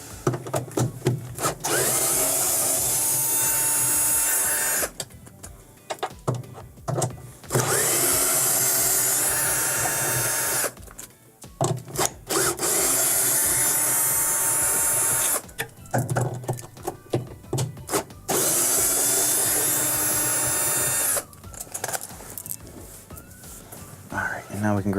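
Power tool driving out the four 3/8 inch stator bolts on a Fisher & Paykel washer, loud whirring bursts of several seconds each separated by short quieter gaps, with a person talking in between.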